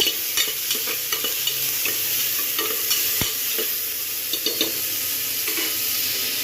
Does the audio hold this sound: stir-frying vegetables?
yes